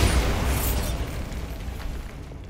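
A Bombarda spell detonates in Hogwarts Legacy with a loud, close explosion, a heavy boom that rolls into a long crackling, debris-filled rumble and slowly tapers off.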